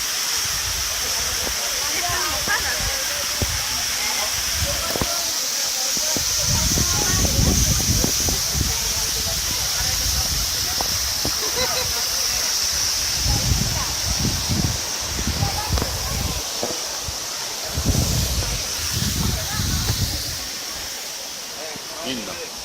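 Waterfall at Peguche near Otavalo, a steady broadband roar of falling water throughout, with people talking intermittently over it at close range.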